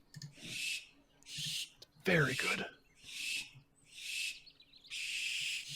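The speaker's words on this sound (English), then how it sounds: "This is the barn owl for folks at home." Barn owl calls from the Wingspan board game: a series of five harsh, hissing screeches in regular bursts, fairly loud and near, with a voice breaking in briefly between them.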